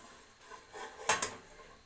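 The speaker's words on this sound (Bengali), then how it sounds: "এবার আমি ঢাকনাটা আস্তে করে খুলবো" A metal lid lifted slowly off a hot pot holding a steamed sponge cake, giving two quick close clinks about a beat apart over a quiet scraping rustle.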